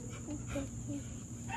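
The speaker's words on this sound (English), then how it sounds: "Yeah, that's the doggy." A dog whimpers and whines in short, faint bursts against a steady background hum.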